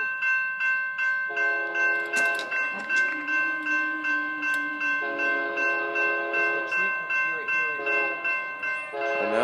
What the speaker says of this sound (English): Simon, there's a train.